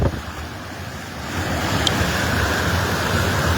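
A swollen river rushes in a steady, broad roar of turbulent water, loud and continuous throughout, mixed with wind buffeting the microphone.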